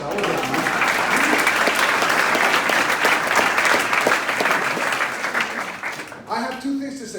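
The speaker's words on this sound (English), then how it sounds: "I think, Moreno, you deserve a round of applause" Congregation at a youth missions commission Mass breaks into sustained applause, a dense wash of clapping that fills the room before tapering off near the end, with a voice speaking briefly afterward.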